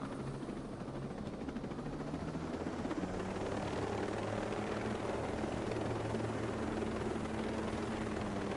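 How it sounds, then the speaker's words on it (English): A helicopter flies in a video game, its rotor chop a loud, constant thrum that holds steady throughout with no speech. "I'm coming in with the chopper though."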